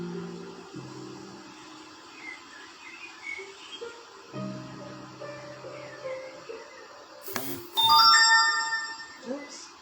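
A mobile phone rings out loud and close for about a second of bright, rising electronic tones in the middle of a yoga class, cutting across the instructor's spoken cues and the quieter room sounds before it.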